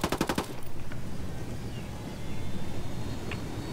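A burst of automatic gunfire from a newly picked-up weapon in Ghost Recon Wildlands, rapid evenly spaced shots for about half a second, then a low rumbling game ambience that carries on alone.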